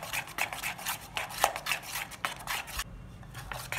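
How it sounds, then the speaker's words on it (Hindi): Chocolate lava cake batter beaten and stirred in a bowl, producing a quick, steady run of close scraping and tapping strokes that pause briefly near the end. "आपको इसी तरह से इसे चलाना है 2 से 4 मिनट तक। इसमें कोई लम्स ना रहे और ये अच्छे से बीट हो जाए।"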